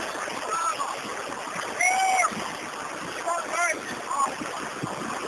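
Boots slosh and splash through shin-deep flood water in a steady wet churn, with loud voices crying out and shouting above the splashing.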